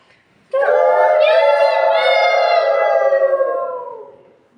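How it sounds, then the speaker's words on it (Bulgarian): A train whistle sounds suddenly and holds one loud, steady chord for about four seconds, then fades away. "Наблизо се чу свирката на влак."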